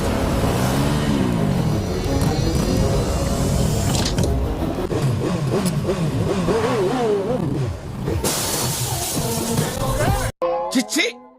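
Motorcycles rev and roar through a South Indian movie action scene involving a container truck, with rising and falling engine whines, dramatic music and speech mixed in, ending in a brief silence and a few sharp hits.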